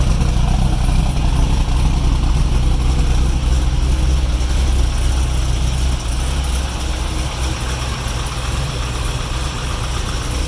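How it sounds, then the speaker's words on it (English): A car's engine idles steadily through its stock exhaust, a continuous low rumble that stays even and close for the whole stretch, with no voices over it. "Looks like it is the stock exhaust."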